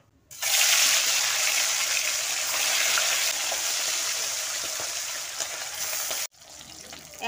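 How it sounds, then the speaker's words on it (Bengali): Bata fish frying in hot mustard oil in a wok gives a steady, loud hissing sizzle that runs for about six seconds and then cuts off abruptly, with no voices. "আমি সরষের তেল দিয়ে দিচ্ছি মাছ ভাজার জন্য। আমি মাছগুলো ভেজে নেব।"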